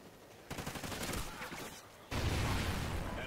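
Gunfire in Call of Duty Ghosts, a dense dull rattle of rapid shots that grows louder partway through, steady and close with no speech over it.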